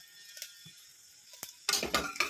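A spoon stirring mustard seeds, cumin and coriander in a pan. Faint clinks come first, then a louder burst of metallic scraping and rattling near the end.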